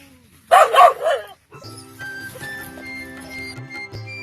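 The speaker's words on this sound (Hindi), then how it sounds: "इस बगीचे में अलग अलग कोनों पर 9 कुत्तों की गार्ड के साथ तैनाती की गई है।" Guard dogs posted in a mango orchard bark in a short loud burst of several barks. The barking gives way to quieter background sound and faint tonal hum.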